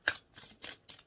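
Tarot cards being shuffled and falling, four quick papery bursts of riffling and slapping at close range, faint and crisp, with no voices.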